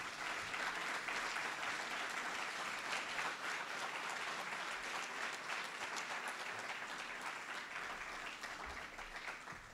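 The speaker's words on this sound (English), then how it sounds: "let's give them one more great round of applause" At a college athletic Hall of Fame induction ceremony, an audience claps steadily for the inductees, a dense, even wash of applause that holds for the full stretch, heard from some distance and gently tapering near the end.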